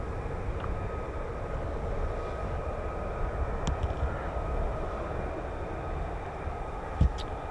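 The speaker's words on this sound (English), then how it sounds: "These are the F-35B." F-35B Lightning jets begin their takeoff, a sustained jet roar carrying a faint whine, heard from a distance and fairly even, with a single sharp thump near the end.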